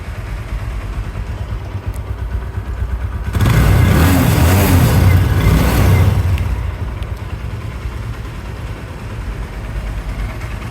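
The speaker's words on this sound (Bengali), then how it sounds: "বাইক কিন্তু এই মুহূর্তে স্টার্টিং আছে।" A 2024 TVS Apache RTR 160 2V ABS motorcycle engine idles close by with a low steady putter, briefly swelling into a louder rev for a few seconds before settling back to idle; no talking.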